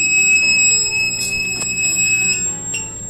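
A high, steady electronic buzzer sounds continuously from an energy meter box alarm, with faint clicks and knocks around it and no talk.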